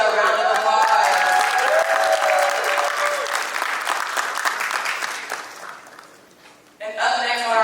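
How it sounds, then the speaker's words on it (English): Conference audience at a tech session applauds loudly while voices talk over it. The clapping gradually tapers and drops away, then a voice resumes over a brief renewed burst. "Let's go ahead and give Chika a round of applause"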